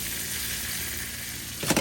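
A grilled cheese donut sizzles steadily in a pan just after flipping, with a constant close frying hiss and a brief scraping clatter at the end.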